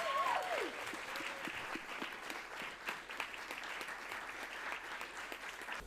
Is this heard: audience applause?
yes